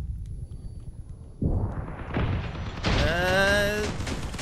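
Gunfire strikes a player's armored vehicle in the combat game Crossout, a loud burst of impacts and thuds building over low engine rumble, with a ringing metallic tone near the end.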